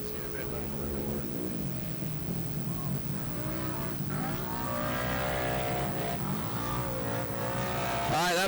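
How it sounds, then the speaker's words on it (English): UTV race cars roll off the start line at a GNCC off-road race, a loud continuous roar of many engines revving and rising in pitch, with an announcer talking over the noise. "Row 8 off and rolling now as we got the 100 car."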